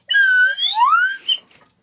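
A slide whistle plays a short run of gliding tones, rising and falling pitches in quick succession, loud and close with no talking, ending in a brief fading squeak.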